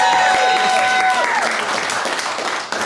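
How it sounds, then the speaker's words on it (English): Audience applause for Anna, a performer at an improv comedy show, a dense wash of clapping from a crowd that holds steady and fades slightly toward the end. "Give Anna a round of applause."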